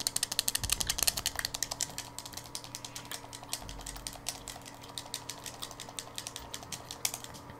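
Rapid computer keyboard clicking during a Black Ops 3 or GTA V gaming session, a dense run of sharp keystroke taps continuing steadily for several seconds at close range with no talking.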